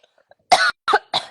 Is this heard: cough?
yes